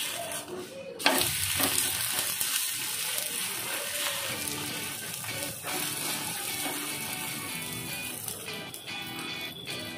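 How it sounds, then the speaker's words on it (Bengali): A vegetable flour pancake frying in oil in a pan gives a continuous close sizzle and crackle, with scraping and stirring sounds and a brief clatter near the start. "এর উপর দিকটা অল্প একটু তেল দিয়ে গলিয়ে দেবো, তাহলে এটা উল্টে দিলে এটাও উপর দিকটা ভাজা হয়ে যাবে"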